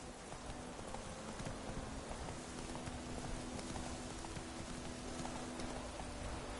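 A ridden horse's hooves clip-clop steadily at a brisk, even pace against a constant dense background hum, with no voices.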